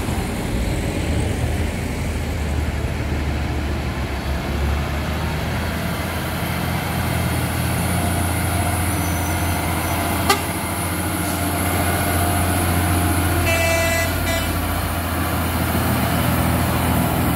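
Steady roar of heavy road traffic and a large trailer truck rumbling past, with a brief horn toot partway through.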